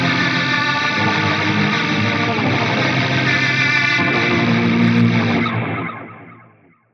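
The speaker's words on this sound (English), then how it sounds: "Scene 3 is the same thing with a rotary block." A guitar runs through the Uberschall preset on a Fractal AX8 with a rotary block, giving a dense, heavily distorted swirling wash of sustained chords that fades out over the last couple of seconds.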